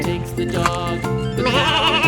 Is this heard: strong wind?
no